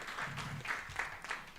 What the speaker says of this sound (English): So let us give her another round of applause.